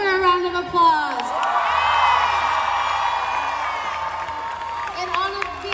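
A crowd at an Eritrean festival in Dallas cheers, whoops and claps during an award presentation, the shouting swelling and then easing, with voices calling out over it.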